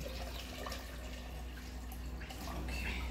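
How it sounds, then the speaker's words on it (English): Water is poured into a blender for a green fig and saltfish dish, a soft, steady splash and trickle heard faintly against background noise. "So we pour our water."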